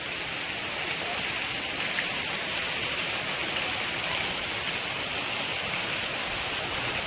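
Strongly flowing river water, swollen after rain, gives a steady, broadband rushing roar that stays even and continuous throughout, close and fairly loud, with no voices.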